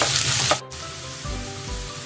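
Chopped onion sizzling as it hits hot oil in a pan for millet upma, a steady close frying hiss with light stirring clatter.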